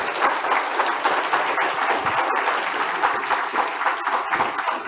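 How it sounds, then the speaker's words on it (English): Audience applause after a lunchtime history lecture, a steady, fairly loud crowd of clapping hands filling the room without a break. "Let's give Dr. Ivory Phillips another round of applause."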